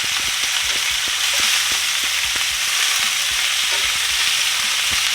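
Garlic-crusted lamb loin chops sear loudly in a hot pan just after flipping, a steady dense sizzle and crackle running throughout with occasional clicks of the pan or utensil, no voices.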